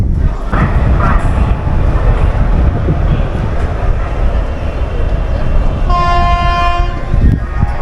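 An express train departing Howrah station platform rumbles steadily along the tracks, loud and close, with a horn sounding near the end; a voice speaks faintly underneath.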